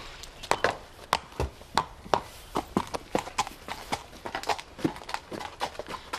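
A single horse walks forward on a hard surface, its hooves clip-clopping in a steady, even four-beat rhythm, close and distinct, with no talk over it.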